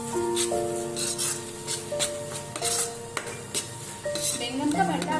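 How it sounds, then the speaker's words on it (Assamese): Eggplant bharta with garam masala stirred in a pan, spatula scraping and rubbing through a low sizzle, close by, with faint tonal background sound and no clear talk. "এইখিনি দি মই ভালদৰে লৰাই দিছোঁ"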